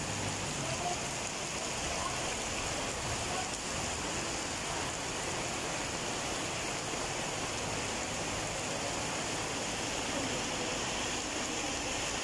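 Heavy rain pours down steadily in the street with taxis, a dense, constant roar of drops on surfaces that stays loud and unbroken throughout.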